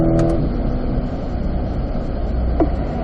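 A Corvette C8 on a race track during an owners' school lead/follow session, its engine droning loud and steady through the whole stretch, with a brief higher tonal whine near the start.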